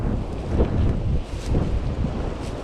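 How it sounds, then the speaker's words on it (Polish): Strong outdoor wind buffets the microphone in a loud, continuous low roar with gusty swells, heard alone as clouds gather during a walk exploring an abandoned site. "O, zaczyna wiać, chmury się zebrały."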